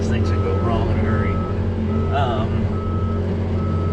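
A truck's reversing alarm beeps in a steady, evenly spaced series over a loud, constant diesel engine rumble, with brief vocal sounds on top.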